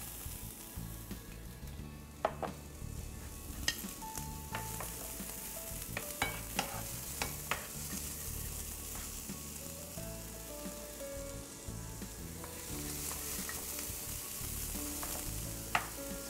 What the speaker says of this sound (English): So we're gonna go ahead and sweat our onions a little bit here